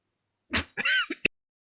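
A single person coughs twice in quick succession, close and clear, followed by a short sharp click or throat sound in an otherwise quiet room.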